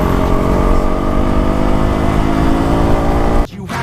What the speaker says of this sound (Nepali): केटोले रन्कायो बाइक